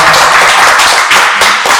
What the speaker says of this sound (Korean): 일단 저희 뜨거운 박수 한번